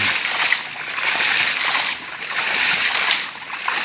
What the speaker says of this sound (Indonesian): Ini pompa hidran PVC 4 in.